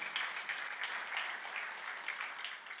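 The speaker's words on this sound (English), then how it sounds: "Let's see a round of applause." A round of applause from the audience at a real estate summit, even clapping from a moderately sized crowd heard at a slight distance and fairly quiet throughout.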